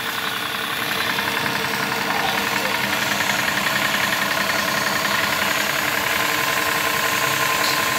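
A WC03 high-pressure washer runs at a steady, continuous drone, its motor humming with a rough, even buzz that holds constant throughout.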